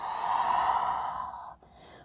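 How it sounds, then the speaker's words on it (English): A single long, audible exhale during a yoga forward fold, close and clear, steady for about a second and a half and then trailing off, with no talk. "Fold, exhale."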